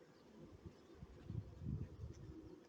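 Honeybees at a springtime apiary during a hive inspection, a low steady hum of many bees close by, swelling and fading in loudness with no talk over it.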